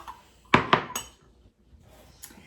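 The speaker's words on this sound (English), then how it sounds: "Once you've done that, again, you're going to stir it together." A spoon stirs brownie batter inside a mug, producing three quick clinks and knocks against the mug's walls in a burst, then near quiet with a faint tap at the end.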